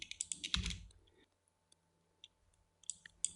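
Computer keyboard keys clicked at close range during animation work, a quick burst of taps at the start, then sparse single clicks, with a soft thump mixed in.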